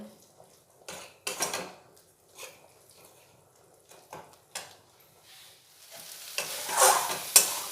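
Kashmiri chili powder and spices for a vegetarian khichuri being sautéed in a pan, with repeated spoon scrapes and stirring clatter in short bursts, a brighter sizzle rising toward the end, no voices.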